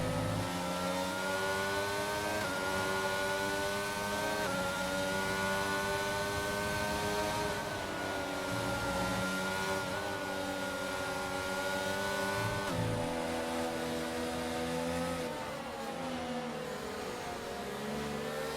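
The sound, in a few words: racing cars in F1 video game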